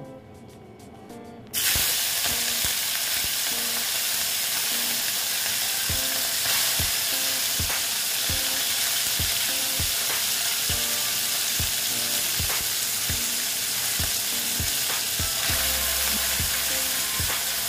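Small mourola fish frying in oil in a pan, a loud hiss that bursts on abruptly and holds as a steady close sizzle, with faint utensil taps and crackles and no voices.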